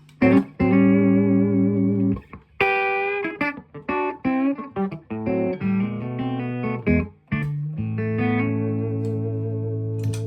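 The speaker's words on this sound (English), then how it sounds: "Reverb." An electric guitar runs through a reverb pedal on a pedalboard, ringing sustained chords and short melodic phrases with lush trailing ambience, loud and close with no one talking.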